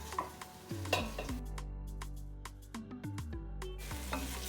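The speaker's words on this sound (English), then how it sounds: "We're gonna add our rice into the pot now." Rice tipped into a pot of sautéed onions for Guyanese cook-up rice, a steady sizzle with a few scraping stirs and clinks of the spoon against the pot, no voices.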